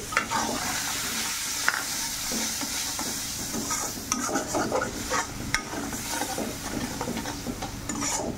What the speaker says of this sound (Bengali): সামান্য পরিমাণে জল দিয়ে দিচ্ছি